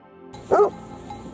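A single short bark from a young mastiff of the Tábara type, a sheepdog guarding flocks, sounding close and loud over quiet rural background noise.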